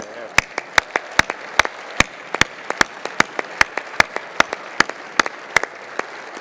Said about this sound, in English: will all the Problem Solvers Caucus members stand up for a second so we give you a big round of applause?